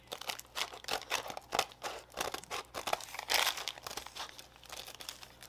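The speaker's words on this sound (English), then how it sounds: "Probably shouldn't be using these scissors." Repeated crisp snipping and crinkling of paper as scissors cut along, in a loose irregular rhythm, close by with no talking.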